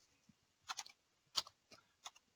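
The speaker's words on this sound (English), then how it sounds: "I'm typing my user ID" Someone types a user ID on a computer keyboard, a few sharp, quiet key clicks in small bursts separated by short pauses, with no talk.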